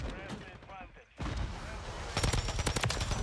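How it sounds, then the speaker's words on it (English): Gunfire in Call of Duty Modern Warfare 3 from a PULEMYOT-762 light machine gun, heard as a rapid burst of loud shots near the end after a brief lull, with game noise and a voice underneath. "I shot through the wall. I had to."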